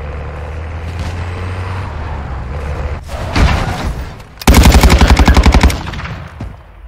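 Loud bursts of rapid gunfire in the shooter game Warzone, with one opponent firing akimbo pistols. A rumbling background gives way to scattered shots, then a fast, even string of shots before things settle.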